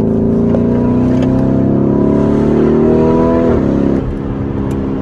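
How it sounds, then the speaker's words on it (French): A modified Urus sports SUV engine accelerating with a strong rising whoosh from the turbo, loud and continuous inside the vehicle, then dropping off as the throttle eases. "t'entends ce souffle du turbo qui souffle très très fort"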